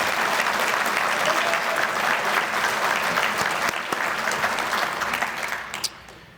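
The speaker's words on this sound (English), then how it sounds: "I'd really like a round of applause for Megan" An audience at a company annual meeting applauds for Megan Saman, a steady, dense round of clapping that fills the room and fades out near the end.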